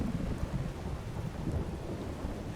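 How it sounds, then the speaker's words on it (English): Thunderstorm in the video game Skyrim, with steady heavy rain and low rolling thunder rumbling throughout, dense and continuous with no voices. "Not even just rain, but a thunderstorm."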